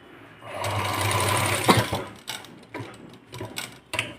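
A sewing machine stitches a boat-neck blouse in one sustained close-up run, then stops and gives a few short bursts with clicks between them.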